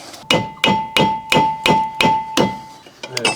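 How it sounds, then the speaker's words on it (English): Six sharp hammer blows strike a metal part on an abandoned Toyota Supra at a steady rhythm, each ringing briefly, close and loud, followed by a few lighter clinks. "I'm going to hit it with a hammer."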